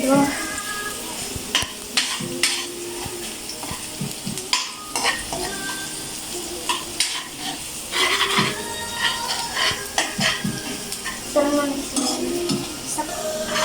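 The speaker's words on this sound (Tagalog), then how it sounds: "Haluin lang po natin. Hanggang sa ang bawang po ay maging golden brown." Garlic sizzles steadily in hot oil in a pan for adobong manok, with a utensil repeatedly stirring and scraping against the metal in irregular clatters.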